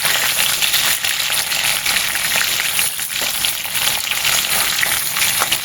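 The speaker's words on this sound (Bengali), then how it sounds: "আলুগুলো এবার লাল করে ভেজে নেব, একটু ভালো করে ভেজে নেব।" Potatoes fry in a pan with a loud, dense, steady sizzle and crackle, broken by light rattling scrapes of stirring; no voices.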